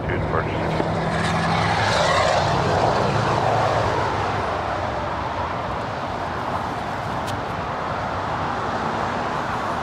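An airliner departs LAX at night with a loud, steady engine roar that fills the whole stretch, swelling slightly early on and holding constant.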